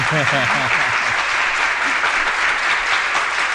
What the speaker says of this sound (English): we need an audience applause